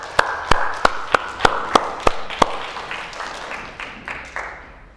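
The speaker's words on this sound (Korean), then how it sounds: "우리 감사의 박수 한번 올려드리겠습니다." A church congregation claps in thanks during a Sunday worship service at Melbourne Calvary Church. A few sharp, evenly spaced claps ring out loud and near at first, then fade into a softer, scattered patter.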